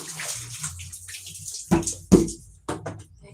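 Water splashes and sloshes across a floor being cleaned, with a few sharp, loud splashes standing out over a quieter wet wash, no voices.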